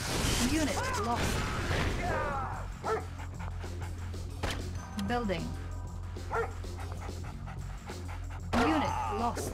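An attack dog in the Red Alert 2 video game barks and yips repeatedly, mixed with whimpers and panting, under a game voice announcer and ongoing battle sounds, with a steady low hum throughout.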